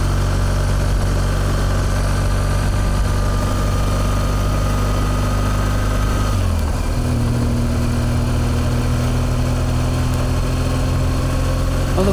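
A BMW R1200GS motorcycle engine idles steadily with a deep, low rumble and constant vibration, then shifts slightly in tone partway through, with no voices.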